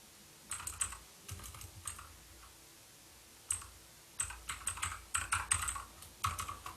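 Computer keyboard keys clicked in quick irregular bursts while a password is typed, close and clear with no talking.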